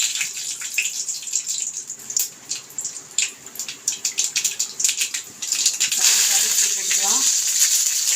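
Mustard seeds splutter in hot oil in a pan, with irregular crackles and pops at close range that build into a denser sizzle toward the end.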